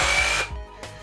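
A Parkside PKHAP 20-Li A1 cordless combi hammer drill whirs loudly at close range for about half a second, then drops off and briefly spins up again near the end.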